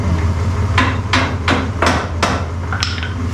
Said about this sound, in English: Sometimes it doesn't hurt to take a hammer and give them a little lump tap.